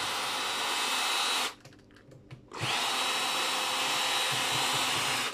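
Cordless power drill backing screws out of scrap electrical parts, whining steadily and loudly at close range, pausing briefly for about a second of small clicks and handling before the motor spins up again.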